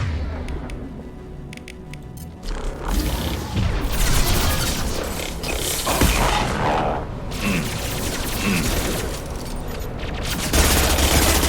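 Grenade blast in the Mass Effect 2 video game: a sudden loud boom followed by sustained crashing, debris and gunfire-like rumble filling the scene for several seconds.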